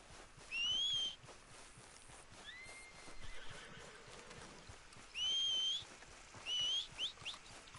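In Red Dead Redemption 2, a horse whinnies loudly twice, with a fainter sliding whistle between, over a steady game ambient background.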